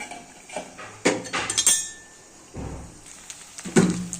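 A utensil stirs fish in a cooking pan, making several sharp metallic clinks and scrapes in an uneven rhythm, close and clear, with no one talking.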